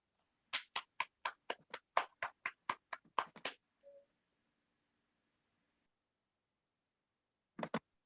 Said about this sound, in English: So please, a round of applause for her as she takes over the floor.